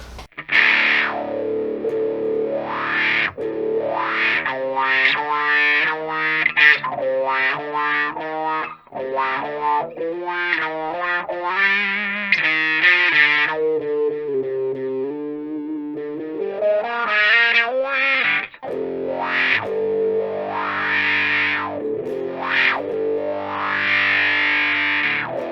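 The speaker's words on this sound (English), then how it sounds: "Now let's turn on the in-amplifier effect." Electric guitar runs through a Boss Tone Studio in-amplifier pedal effect, giving distorted, chorus-tinged chords and sweeping filtered tones that swell and fade, played close and alone with no talking.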